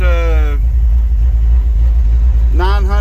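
Sweptline truck engine fitted with a Holley carburetor idles steadily at around 800 to 900 rpm, a constant low rumble, with someone talking briefly at the start and end.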